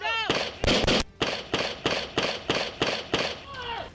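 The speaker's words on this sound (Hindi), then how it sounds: "उसके बाद भी उस पर ताबड़तोड़ कई गोलियां चलाई गईं" Police fire a rapid volley of about eight or nine loud, sharp gunshots in news footage, some in close succession and the rest at a steady pace. Voices can be heard at the start and end.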